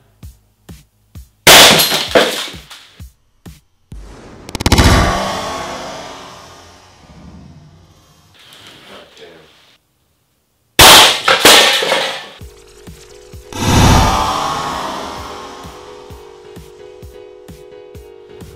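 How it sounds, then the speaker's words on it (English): An APS CAM870 shell-ejecting airsoft shotgun fires two loud, sharp shots, each followed by racking clacks and ringing decay, with a few quick mechanical clicks before the first shot. "Actually, I think I'll shoot one more. Let's hit this one."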